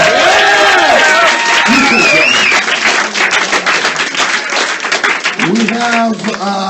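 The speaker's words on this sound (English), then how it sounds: "One more time, clap your hands" Comedy roast show audience clapping and cheering, a burst of many hands with whoops and shouts close by, tapering toward the end as voices call out over it.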